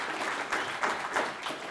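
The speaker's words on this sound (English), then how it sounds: "Let's just give like a round of applause to the organization." Applause from a conference audience at a PyData London tech talk, a short burst of steady clapping in a hall with several louder swells, close and fairly loud with no speech over it.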